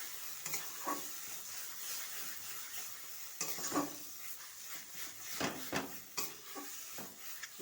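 A spatula stirs and scrapes cabbage mash around a pan, with a soft background sizzle and repeated scraping strokes close by.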